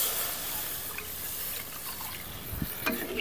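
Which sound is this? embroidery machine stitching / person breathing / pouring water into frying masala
pouring water into frying masala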